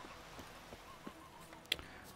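Geralt's horse is called in The Witcher 3 with a faint clip-clop of hooves and soft thuds, then one brief sharp accent near the end, all low against quiet game ambience.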